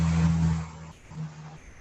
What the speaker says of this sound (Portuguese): Peraí, deixa eu passar o carro.